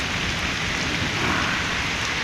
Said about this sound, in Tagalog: Ito, maulan na naman.